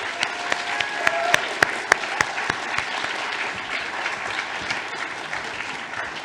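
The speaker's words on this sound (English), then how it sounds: "can we have a massive round of applause for all the winners of today's awards," Audience applause for award winners at a 2022 volunteering awards ceremony, a continuous patter of clapping with a few sharp, loud claps standing out near the start.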